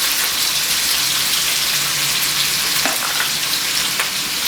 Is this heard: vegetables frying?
yes